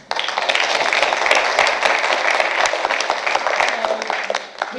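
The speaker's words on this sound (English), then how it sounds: "So just a round of applause," Audience applause at a student award presentation evening in Victoria, a steady crowd clapping that holds level and then tapers near the end, with some speech faintly mixed in.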